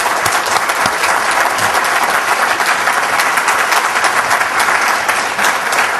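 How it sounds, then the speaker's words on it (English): A forum audience applauds the panelists at a morning economic forecast event, a dense, steady wash of many hands clapping loudly and continuously throughout, with no talk over it. "If we can give a round of applause to all of our panelists this morning."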